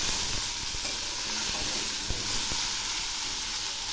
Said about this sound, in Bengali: এখন আমি এর মধ্যে মাছগুলো দিয়ে দিচ্ছি, আবারও একটু নেড়ে দিচ্ছি। এগুলি এখন একসঙ্গে ভেজে নেব।